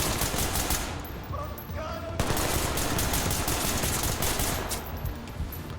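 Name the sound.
gunfire in video game Ready or Not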